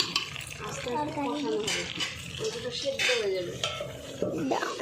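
Mutton curry stirred in a cooking pot, the spoon clinking and scraping against the metal in repeated strokes beneath a faint sizzle, while a person talks over it.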